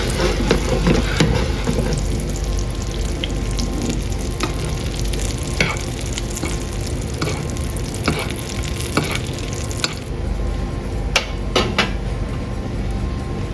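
Breaded cheese cutlet, coated in crushed crackers, fries loudly in butter in a pan. A steady close sizzle runs throughout, with scattered clinks and scrapes of utensils against the pan.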